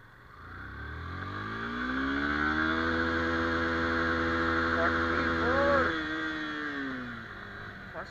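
A Yamaha FZ V3.0 motorcycle accelerates in first gear, its engine note climbing steadily in pitch up to a peak, then dropping off as the throttle closes, heard fairly close and alone.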